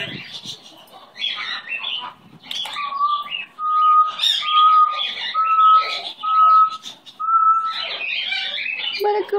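A pet bird whistles and calls close by, with a steady run of clear repeated whistled notes in the middle among chirps and squawks, while a person talks warmly to it in between.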